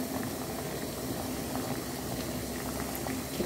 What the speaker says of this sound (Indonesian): Pengukusan udah siap, kelihatan airnya udah mendidih.